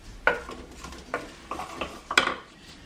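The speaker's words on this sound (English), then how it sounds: "Let's give it a stir." Vegetables softening in a pan for a mixed bean casserole get stirred: a handful of separate scraping clinks of a utensil against the pan, close and fairly quiet, with faint background noise and no voices.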